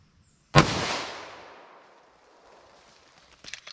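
A single sharp pistol shot from 5 yards, a 180 gr XTP round, cracks loudly and decays over about two seconds, with a faint clatter near the end.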